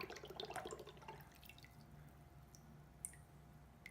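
Berghoff Leo citrus juicer dipped into a bowl of water, giving a close splash and sloshing at first, then soft scattered drips and trickles that fade toward quiet.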